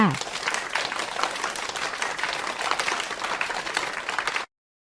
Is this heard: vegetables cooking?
no